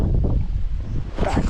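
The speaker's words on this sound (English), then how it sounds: "Wind kicks up." Gusty wind blows outdoors during a trout fishing outing with a float rod, producing a continuous low rumbling roar of wind buffeting the microphone throughout.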